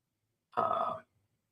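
A single brief ringback tone from an outgoing telephone call, a clear half-second buzz heard alone in otherwise quiet surroundings.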